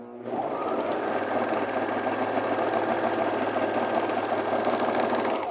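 A sewing machine runs on a wool mat, giving a steady, close mechanical drone with a buzzing vibration that starts almost at once and continues evenly to the end, with no talking.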